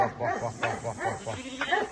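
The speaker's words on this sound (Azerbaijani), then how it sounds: "Bax 110 dənə belə quzumuz var." A flock of about 110 lambs, around 80 of them rams, bleating and calling repeatedly in overlapping near cries on a farm, with someone talking faintly among them.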